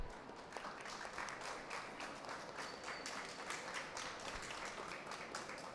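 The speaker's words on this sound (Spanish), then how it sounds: "Un aplauso." Audience applause at a book presentation at a book fair, a dense, steady clatter of many hands clapping, fairly distant and soft throughout with no talk over it.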